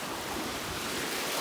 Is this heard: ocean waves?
yes